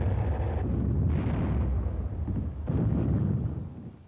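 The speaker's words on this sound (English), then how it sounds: "A new weapon, the recoilless rifle, was used for the first time in combat during the campaign's final days." A recoilless rifle fires in combat on Okinawa in 1945. Heavy, booming blasts rise over a continuous rumbling roar of battle, with a few distinct thuds standing out against the dense, low, muffled noise.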